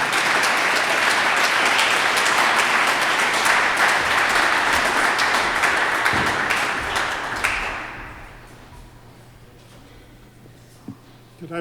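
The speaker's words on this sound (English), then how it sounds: "Won't you please welcome and give him a nice round of applause, Dr. Mark Levine." Loud, dense applause from a large crowd that carries on steadily for several seconds, then fades quickly into near quiet.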